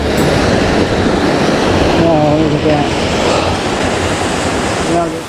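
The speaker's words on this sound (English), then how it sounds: "Approaching a waterfall here." Steady roar of rushing water from a waterfall beside a gorge hiking trail in Japan's Kurobe Gorge, loud and continuous throughout, with a person speaking briefly over it.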